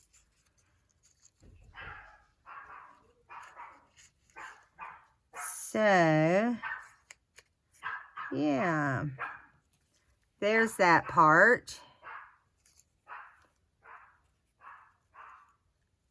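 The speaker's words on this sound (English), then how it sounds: "Sorry the dog is barking." Indoor dog barking at a door after a knock, loud repeated bark bursts in several clusters, with a person speaking in between.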